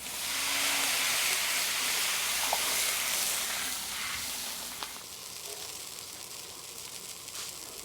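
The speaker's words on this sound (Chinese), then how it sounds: "现在炒香加水" Loud steaming sizzle as water hits stir-fried chili in hot oil in a pan for spicy mao xue wang, a broad hiss that slowly fades and settles into quieter bubbling.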